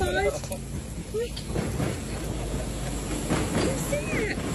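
A passing train rumbles and hisses steadily outdoors, a continuous broad roar that lasts throughout, with a few brief higher chirps on top.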